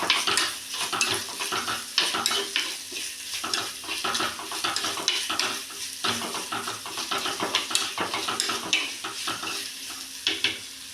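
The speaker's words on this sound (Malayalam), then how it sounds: "രണ്ടും ഒപ്പം വഴന്ന് വരുമല്ലോ." Onion and tomato sautéing together in a pan for a fish curry: a continuous close sizzle with frequent rapid scraping and clinking of a spoon against the pan as it is stirred, no voices.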